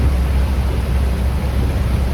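Heavy rain drumming on a truck on the Veraval bypass with its wipers running, a dense steady roar of water and low cab rumble with no distinct strokes standing out.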